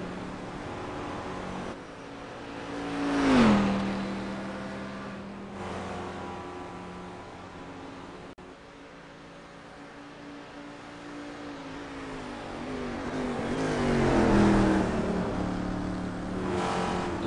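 Race car in a racing video game circling the Spa track, its engine droning steadily with two rising and falling passes as it accelerates and shifts, plus faint background engine noise.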